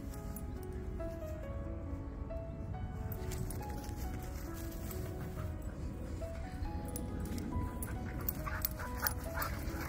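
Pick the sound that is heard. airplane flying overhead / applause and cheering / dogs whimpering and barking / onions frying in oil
dogs whimpering and barking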